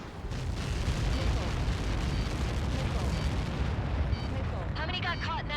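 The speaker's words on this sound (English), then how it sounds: "How many got caught in that explosion?" A massive projectile impact explosion in the video game Ace Combat 7 gives a sustained, loud, dense roar of rumbling blasts and crackling debris that runs throughout, with faint radio voices and a tonal whine near the end.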